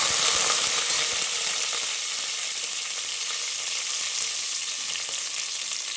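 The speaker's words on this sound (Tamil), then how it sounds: "இப்போ பச்சை மிளகாய் போடலாம், கருவேப்பிலை போடலாம்." Green chillies and curry leaves fry in hot oil for vegetable upma, giving a loud, steady, close hiss and sizzle. A few faint stirring clatters come early on, with no talking.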